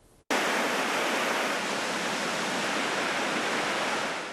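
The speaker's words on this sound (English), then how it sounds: "The sound of the falling water muffles the clang of the city that surrounds it." Steady roar of water cascading down the walls of the 9/11 memorial fountain in New York City, starting abruptly after a brief quiet moment and holding as a loud, continuous broadband wash.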